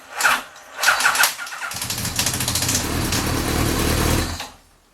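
Yamaha FJ1100 motorcycle with a loose wire and weak battery: a couple of short starter cranks, then the engine catches and runs at a rough, steady idle before cutting off, close by with no talk.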